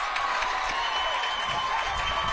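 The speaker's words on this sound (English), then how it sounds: "The crowd loving it." A crowd in the stands at an East versus West all-star high school basketball classic applauds after an interception, a steady wash of clapping and cheering heard throughout at a moderate level.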